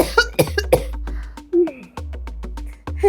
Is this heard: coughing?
yes